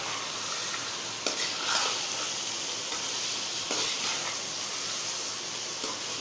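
Phalian keema with green chillies and coriander sizzles in a pan as it is stirred, a close, steady hiss broken by a few sharp scraping clinks of the spoon.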